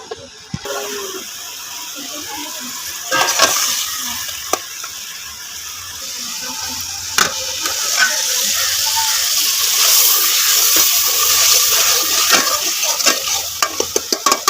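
Spice masala with dry coriander sautéed in a pan for a potato-cauliflower curry: a steady sizzle, building slightly louder over time, with scraping stirs and occasional sharp knocks of a spoon against the pan.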